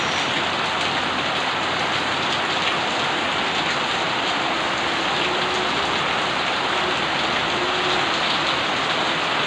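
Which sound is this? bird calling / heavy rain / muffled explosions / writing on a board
heavy rain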